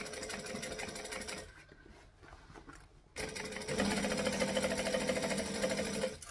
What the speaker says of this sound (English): You also want to make sure you've got enough thread to top stitch the whole way around